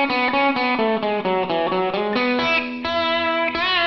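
A distorted electric guitar plays the quick second-guitar harmony riff of a song, picked notes, a few held longer with slight bends, loud and up close.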